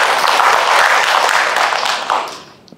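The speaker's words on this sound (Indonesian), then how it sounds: "Tepuk tangan buat semuanya." An audience at a Central Java local-products business event breaks into loud, dense applause that holds steady, then thins out and fades over the final moments.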